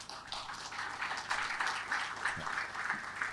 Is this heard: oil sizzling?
no